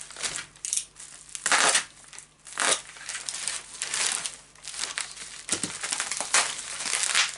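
Gift packaging being unwrapped close up, with repeated bursts of crinkling and crumpling paper or plastic in an uneven rhythm, heard alone.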